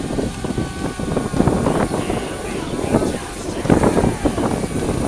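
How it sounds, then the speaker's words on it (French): Steady wind buffets the microphone outdoors during a small drone's flight, in low rumbling gusts, with a broad hiss and a few stronger surges throughout. "Il y a du vent."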